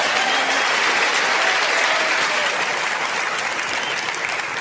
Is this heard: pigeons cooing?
no